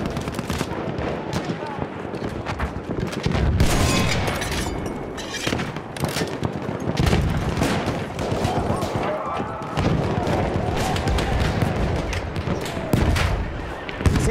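Battlefield 1 multiplayer gameplay on the Ballroom Blitz map, with a grenade explosion amid dense gunfire and booming blasts, loud and continuous, layered with voices calling out in German.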